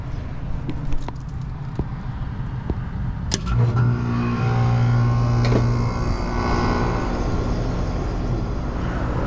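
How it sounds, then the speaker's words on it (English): An HVAC system's blower motor, on a system reported to be screeching, runs with a steady, fairly loud droning hum and a low tonal whine, with a few light knocks early on. "blower's on"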